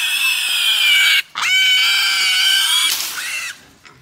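Piglets squeal in a farm pen: loud, close, shrill cries in two long bursts with a brief gap between them, then a shorter squeal that fades out.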